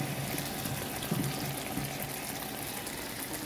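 Water pours into a pan of chicken liver adobo, a faint, steady splashing and gushing with a soft background hiss, continuous and low in level with no voices.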